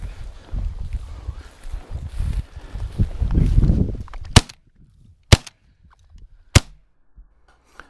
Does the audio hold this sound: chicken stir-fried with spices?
no